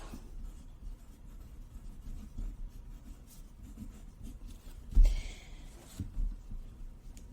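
Soft, continuous scratching of a pen or pencil across paper while working out a calculus problem, quiet and close, with one brief louder tap partway through and no talk.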